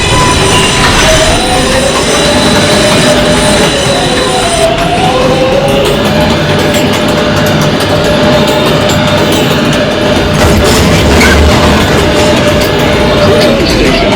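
An R142A subway train on the New York 6 line, running express in the Bronx toward Pelham Bay Park: a loud continuous rumble with squealing wheels and rail clatter, heard from inside the car.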